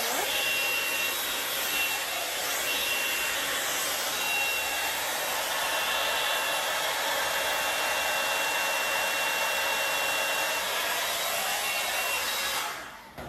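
A hair dryer blows steadily and close while hair is being styled, a constant loud whoosh with a faint whine that runs unbroken and cuts off at the very end.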